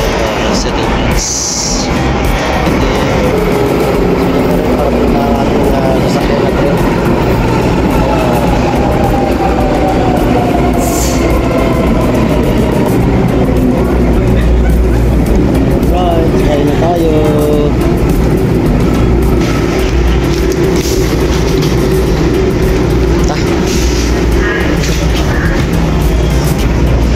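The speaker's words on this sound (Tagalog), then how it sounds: "So ngayon waiting tayo sa subway train going to city Stephansplatz." Subway train in Vienna heading toward Stephansplatz, a loud, constant rumbling ride with rising and falling motor whines and rail noise throughout, while a person talks over it.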